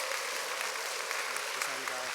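A church congregation claps to welcome a missionary to the front. The applause is a thick, continuous roar of many hands, steady throughout, with a voice faintly audible beneath it toward the end.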